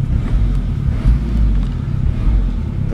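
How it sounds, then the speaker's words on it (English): A 2005 Starex Jumbo 12-seat minivan with manual transmission idles with a low, steady rumble, close and continuous with no talking. "Engine sound is good."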